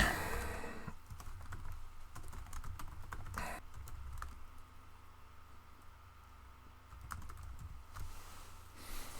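Keys clatter on a computer keyboard as a short comment is typed, irregular bursts of clicks heard close but fairly quiet over a faint background hiss, with no talking.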